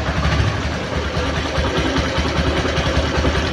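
A 2014 Bajaj Platina 100cc motorcycle with about 23,000 km on it runs at free throttle, a close, loud, steady putter with a fast, even pulse.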